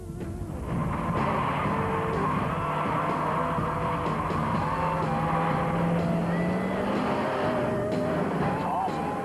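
A Ford Torino Talladega runs on a race circuit, its engine a steady, loud drone close by that rises and shifts in pitch, with a faint voice underneath at times.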